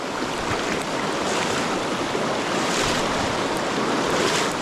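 Rolling water in a green river tailwater, a steady broadband rush of current flowing past rocks, continuous and fairly close with no voices.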